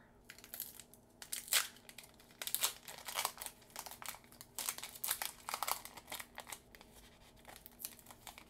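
Pokemon Scarlet and Violet booster packs being torn open and handled, a run of sharp, close crinkling and tearing bursts of foil wrapper in quick irregular clusters with brief pauses, no voices.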